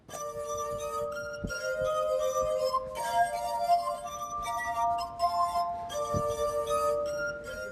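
A glass harmonica plays a slow Beethoven melody, its sustained, ringing glassy tones layered in clear harmonies, with soft swells and occasional faint clinks, heard alone and close.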